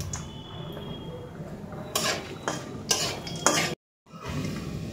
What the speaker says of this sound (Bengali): আর সেই তেলেই অ্যাড করছি ঘি। গরম মশলাগুলো এবার ভেজে নিচ্ছি।